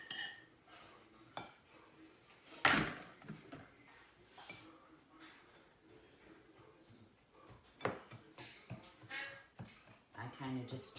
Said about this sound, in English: I kind of just chop it down with my whisk.